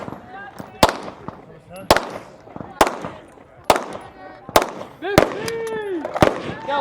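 Pistol shots crack out on a shooting competition stage, about seven sharp loud reports spaced roughly a second apart, with voices talking between them.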